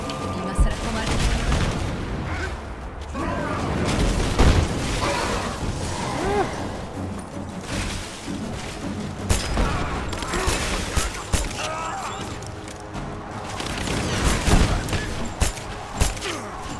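Gunfire in the video game Rise of the Tomb Raider, repeated sharp shots and bursts scattered through a dense, busy action soundscape with booms and whooshes, some shots loud and close, others softer.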